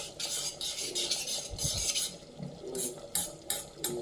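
Black dry raisins fry in a pan and get stirred round, a close crackling sizzle broken by scraping spoon strokes and occasional metallic clinks against the pan.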